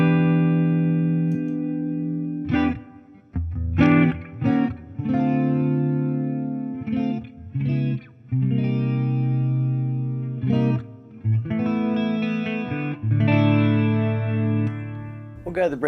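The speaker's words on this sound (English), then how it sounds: "Got just a touch of reverb from the board there." EVH Wolfgang Standard Exotic electric guitar with a spalted maple top, played clean through a light touch of board reverb; ringing chords and single notes sustain with short gaps between phrases, loud and close.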